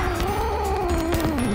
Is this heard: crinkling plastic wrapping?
no